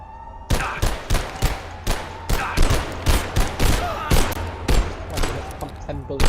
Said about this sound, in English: Pump 10 bullets into him and he didn't die.